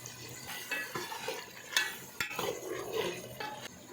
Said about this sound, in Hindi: अच्छी तरह भूनेंगे जब तक कि दही का पानी ख़त्म ना हो जाए।